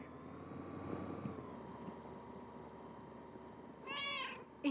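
Mortimer the pet cat gives a brief meow near the end, heard over a constant low mechanical drone.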